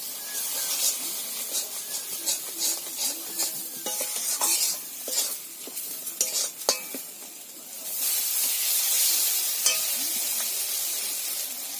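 Turmeric and chili powder paste fries in a pan for a fish curry with bottle gourd, giving a loud sizzling hiss broken by repeated stirring scrapes, the sizzle swelling into a brighter steady hiss near the end; no talking.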